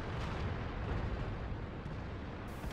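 Tank gunfire and explosions in the World of Tanks video game, a dense continuous rumble of distant booms and blasts, fairly faint.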